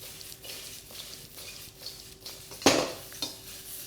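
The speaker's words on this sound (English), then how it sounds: "I'm going to put the baby corn in as well. And keep that stir fry going" Vegetables with baby corn being stir-fried in a pan with stock, Chinese takeaway style: a utensil scrapes and clatters against the pan over a low, steady background, with one sharp metallic knock standing out.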